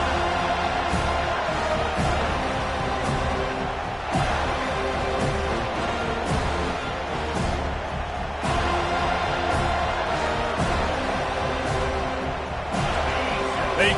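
A stadium crowd in a Madden football video game roars and cheers continuously, a loud, dense wash of noise with periodic surges, under steady play-by-play commentary.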